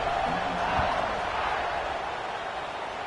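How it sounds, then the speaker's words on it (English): A large stadium crowd at a USC college football game buzzes as a steady, dense roar with no breaks, heard from within the stands. "this crowd is buzzing after that last score"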